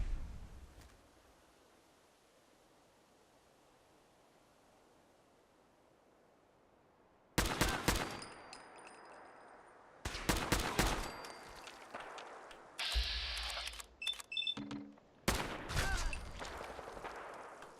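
Gunfire from a Fallout 4 fight against gunners: after several seconds of quiet, repeated bursts of loud, close shots and rapid volleys break out, with sharp impacts between them.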